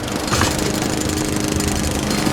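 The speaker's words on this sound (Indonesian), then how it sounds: "menyalakan mesin pemotong rumput" A lawn mower engine runs loud and steady, a close, continuous buzzing drone with a rough, rattling edge.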